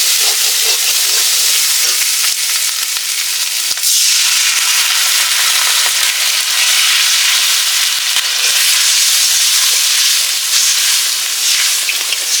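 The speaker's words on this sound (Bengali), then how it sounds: "এখন একটু জল দিয়ে দিচ্ছি, নাহলে মশলা পুড়ে যাবে।" Water hits spice paste frying in oil for a Bombay duck (lote fish) curry, giving a loud, steady sizzle and hiss of steam with scattered pops and crackles that carry on without a break.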